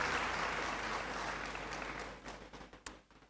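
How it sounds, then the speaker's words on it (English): Dense audience applause fills a university congregation ceremony in a large hall, a steady roar of many hands that thins and fades toward the end, leaving a few scattered claps. "Another round of applause for him, please."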